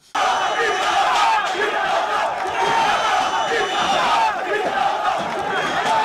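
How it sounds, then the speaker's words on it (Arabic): A dense stadium crowd of thousands chants loudly and continuously in unison, a roaring wall of voices hostile toward a Chechen professional player, sustained without pause and close throughout. "بصوا الجمهور اتهجم عليه ازاي وقعدوا يهتفوا الحرب الحرب"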